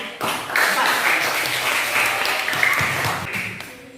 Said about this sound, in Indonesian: Ada tepuk tangan dulu untuk kelompok 4.